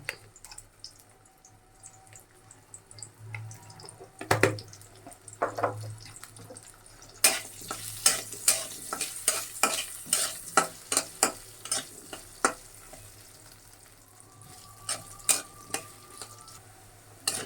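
Potatoes fry with turmeric in a pan, sizzling steadily while a spatula stirs and scrapes in quick, rhythmic strokes that grow louder and denser partway through; no talking.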